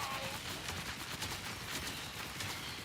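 Rapid gunfire from a Borderlands 4 shooter game, a dense, continuous crackle of overlapping shots with no pause across the stretch, steady and fairly loud throughout.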